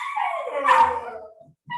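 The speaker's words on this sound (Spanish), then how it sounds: "Disculpen la bulla de los perritos." Dogs nearby let out a loud, drawn-out howl that swells and then fades, with a short yelp at the end, filling the background of an indoor lesson with no talking.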